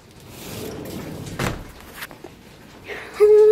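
A back door of a house during a Utah snow storm opens with a sliding rumble and a sharp knock, followed by further thumps and rattles, close and fairly loud.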